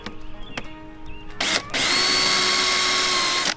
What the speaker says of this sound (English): We'll go ahead and countersink